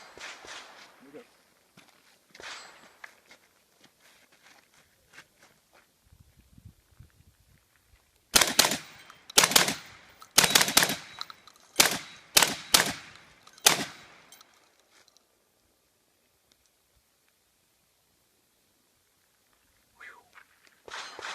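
A shotgun fitted with an unported choke fires a rapid string of about eight loud, sharp shots outdoors, cycled quickly with short gaps, after quieter handling noises and a few faint voices.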